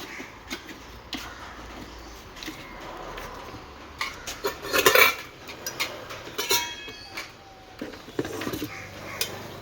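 A Havells Steamor 1.2-litre steel multi-cook kettle rated at 600 watts is opened and handled, with scattered metallic clinks, taps and rattles of lid and parts, a louder clatter midway, close up and without talk.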